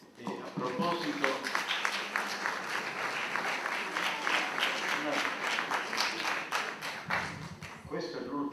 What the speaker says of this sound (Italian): questo è l'ultimo applauso del corso